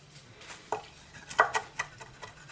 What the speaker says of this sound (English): I'll mince this up really small also.